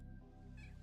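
A domestic cat gives a single short meow, very faint and distant in a quiet room, with no voices during the call.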